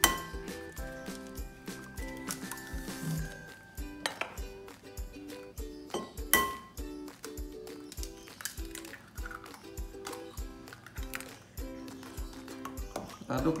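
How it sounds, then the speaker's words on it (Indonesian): Utensil clinking repeatedly against a bowl while pempek dough is stirred with eggs, irregular close taps and rings throughout, with some faint background sound. "Kita aduk ya."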